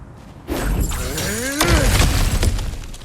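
Cracked ground shattering as the character smashes through it in God of War Ragnarok: a sudden heavy crash with rumbling debris and a sweeping tonal whoosh, then falling rubble settling, loud and close.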